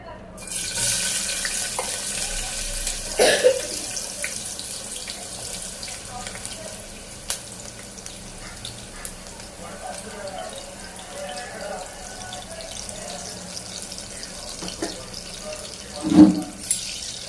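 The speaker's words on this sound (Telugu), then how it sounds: "చూడండి ఆయిల్ వేడెక్కింది ఇప్పుడు ఉల్లిపాయలు పచ్చిమిర్చి వేస్తున్నాను" Onions and green chilies frying in hot oil, a steady hissing sizzle running throughout with a couple of brief clatters.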